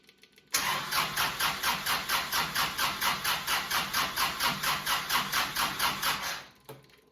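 A cold Kubota L3560 tractor diesel engine cranks without catching after a fuel filter change, the starter churning in a fast, even rhythmic chug for about six seconds, loud and close, then stopping.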